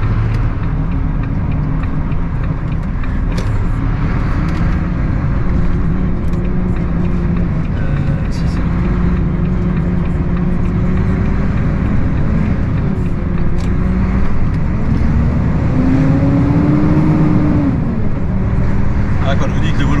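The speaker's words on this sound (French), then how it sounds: "quand je vous dis que le Volvo il est bruyant" A Volvo truck's engine rumbles loudly and steadily from inside the cab while driving, with a low droning hum that shifts slightly in pitch and voices talking over it.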